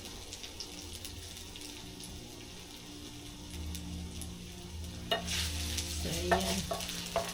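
Garlic and ginger sauté in a pan for turkey gizzard adobo, a steady close sizzle with stirring scrapes and a brief running-water burst near the end, and a short spoken remark over it.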